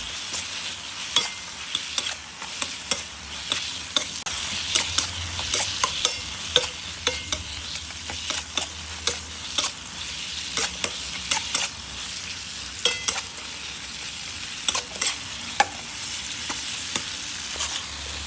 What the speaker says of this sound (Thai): ใส่ปลาทูที่ทอดไป้ลง ไปครับ ตามด้วยใบโหระพาครับ ผัดเรยวๆให้ ส่วนผสมเข้ากันครับ